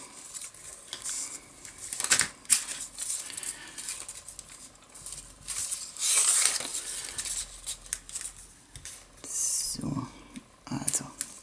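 Scissors cutting paper while making a Christmas gift box, with a few crisp snips and rustles spread between quiet whispered speech.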